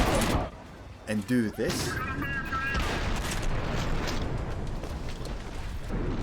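Gunfire from the shooter Trepang2 rattles in dense, sustained bursts that fill the whole stretch, loud and continuous, with a brief spoken phrase near the start layered over the shooting.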